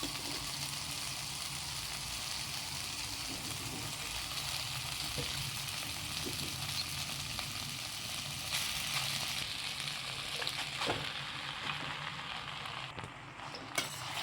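Masala pasta is gently stirred in a frying pan, giving a steady close sizzle with soft scraping and occasional spatter throughout, and no talking.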